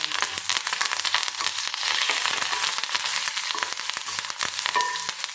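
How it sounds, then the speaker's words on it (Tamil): Whole spices, cloves and cardamom with curry leaves, roasting in a hot pan for Chettinad chicken, giving a steady dense sizzle with crackles and occasional stirring scrapes throughout, no voices. "ரெண்டு கிராம்பு ரெண்டு ஏலக்காய் இது எல்லாமே சேர்த்து நல்லா வறுத்துக்கலாம் கொஞ்சம் கருவேப்பிலை சேர்த்து"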